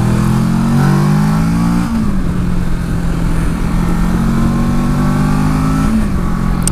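A 2018 Kawasaki Versys 650 motorcycle accelerates hard on a test ride, its loud, close engine note climbing through gears with shift dips and steady wind roar, no talking.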